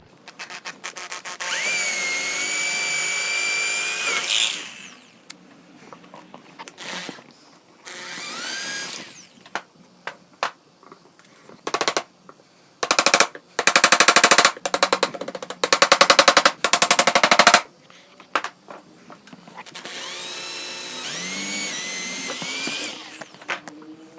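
A drill bores holes in pallet wood for a DIY stool, with long loud whining runs, pitch sweeps and a rattling grind, broken by quiet pauses and choppy bursts of drilling in between.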